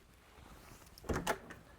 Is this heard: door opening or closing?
yes